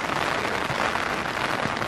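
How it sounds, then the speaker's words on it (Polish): Steady rain falls outdoors in Basel, a dense, even hiss of drops on surfaces that holds without a break. "No niestety, ciągle pada."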